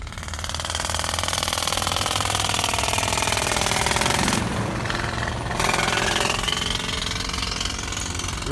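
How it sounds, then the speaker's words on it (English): A jackhammer hammers rock at a road construction site where crews are drilling and blasting. The rapid, steady pounding is loud and close, drops off for a moment about halfway through and then starts again, with an engine droning underneath. "they're drilling and blasting out here, man."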